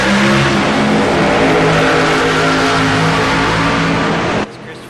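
A pack of stock cars roars away at the green flag of an iRacing Busch Series race at Phoenix, a loud dense wall of revving engines that cuts off abruptly near the end.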